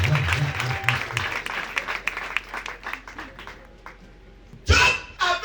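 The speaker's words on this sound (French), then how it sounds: "Acclamez pour le Seigneur" A church congregation claps and applauds, a scattered, moderately loud wave of hand claps that thins out and then swells again briefly near the end, with voices mixed in.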